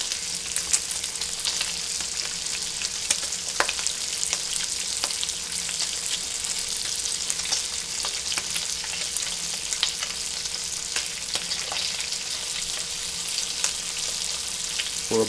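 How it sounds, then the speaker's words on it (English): Grits for low country shrimp and grits are stirred constantly in a pot on the stove, giving a steady bubbling hiss with frequent light scrapes and taps of the spoon. "constantly stirring to make sure we don't have any chunks in the bottom."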